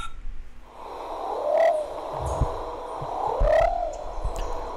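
A plumbeous pigeon (Patagioenas plumbea) in the San Cipriano forest gives two low, drawn-out rising-and-falling coos about two seconds apart, moderately near over a soft background hum.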